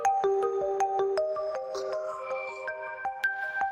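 Phone ringtone for an incoming call late at night, a clear melodic electronic tune of short stepped notes repeating close and steady with no voices over it.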